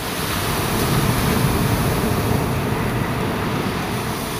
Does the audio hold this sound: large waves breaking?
yes